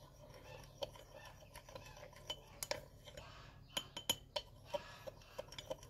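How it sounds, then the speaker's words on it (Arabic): A metal spoon stirring coffee and cucumber in a bowl, with irregular light clinks and scrapes against the bowl that grow busier toward the end, quiet and close with no talking. "حطيت معلقة كده وهحاول ان انا ادمجهم كويس"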